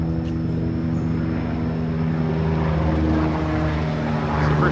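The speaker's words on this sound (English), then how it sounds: "Like back home, helicopter sounds are nothing, but here, it really sounded foreign." A helicopter passes overhead as a steady, loud rotor and engine drone that holds evenly throughout, with no voices.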